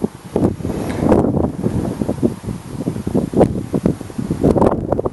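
Strong wind sweeps across an open goji berry field, loud gusts battering the microphone in a continuous low roar with surging peaks, and no speech can be heard.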